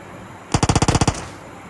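Automatic gunfire in a battle royale mobile game, a single rapid burst of about nine sharp shots in quick even rhythm, loud and close, with no talking over it.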